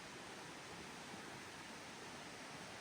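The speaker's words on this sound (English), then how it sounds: "But right there is the creek." A creek flowing right beside a backpacking trail on the Appalachian Trail, a steady, even wash of rushing water, continuous and faint with no voices.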